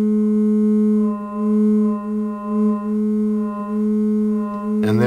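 Mixed output of a EuroSerge ring modulator, a sustained harmonic drone with slight wavering in its upper tones, ending with a brief burst of brighter, noisier sound.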